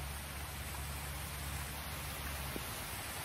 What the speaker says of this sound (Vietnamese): hiện tại đang mưa rồi cả nhà ơi